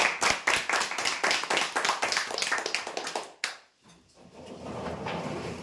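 Crowd applauding winners at a weekly customer prize draw, a dense burst of clapping that runs loud for about three seconds, stops abruptly, then gives way to a faint room murmur.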